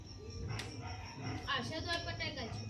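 A small black puppy yips and barks a few times indoors at night, short sharp high calls mixed in with family members talking nearby.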